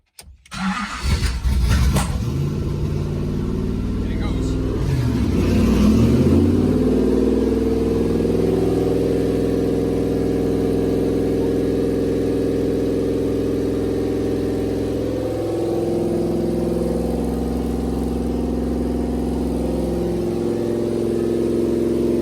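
A twin-turbo V8 fitted in a Ford Focus project car on a static test cranks and fires, then runs loud and steady with a rough, uneven idle for about twenty seconds.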